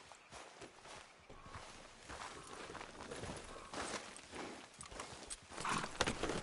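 Horse hooves in a video game, an irregular clip-clop of walking steps on a hard surface, close and fairly loud against a busy outdoor background.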